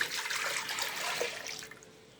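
Milk pours into a pot as cold ingredients wait, making a continuous splashing liquid rush that starts strong and fades out near the end.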